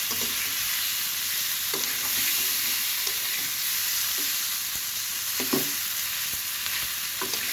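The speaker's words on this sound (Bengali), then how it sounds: "আর সিদ্ধ করে রাখা আলু আর পটলগুলো সুন্দর করে ভেজে নিচ্ছি" Boiled potatoes and pointed gourd frying in a pan, a constant bright sizzle with repeated soft scrapes and knocks of a spatula stirring them, close and clear without talk.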